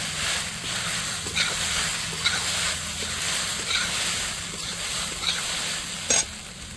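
Sabudana pulao is stirred in a hot pan, a close steady sizzle with repeated soft spatula scrapes and a sharper clink near the end.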